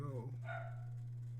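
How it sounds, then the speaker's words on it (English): A dog barks once from downstairs, muffled and distant, beneath a steady electrical hum, with a brief voice just before it. "Geo's downstairs barking at something."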